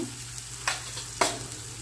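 Chili powder and turmeric sizzle in hot oil as a continuous close crackle, with two sharper bursts as spice goes into the pan.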